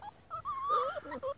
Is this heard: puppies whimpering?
yes